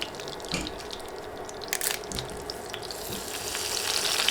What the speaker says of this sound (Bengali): এবার নেড়ে কয়েক সেকেন্ড গরম মশলাগুলো ভাজবো